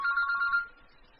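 Brief electronic mobile phone ringtone, a clear steady tone lasting about half a second before cutting off, fairly quiet.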